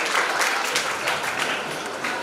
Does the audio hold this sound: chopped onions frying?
no